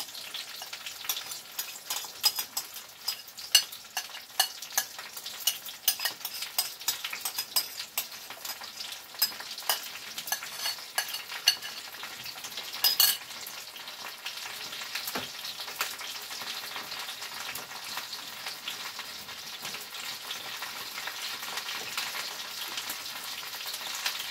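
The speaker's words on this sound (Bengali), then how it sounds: "এখন আমি এই শুটকিটা যে ব্লেন্ড করেছিলাম এই শুটকিটা আমি দিয়ে দিচ্ছি এখন।" Blended dried fish sizzling in a pan, a crackling fry heard close and continuous, with frequent sharp scrapes and taps as it is stirred, louder in the first half and no talking.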